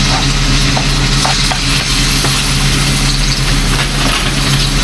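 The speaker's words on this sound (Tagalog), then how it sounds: "Lagay mo natin yung ating karne para lumambot." Meat fries in hot oil with a loud, constant close sizzle, dotted with faint pops and stirring scrapes throughout.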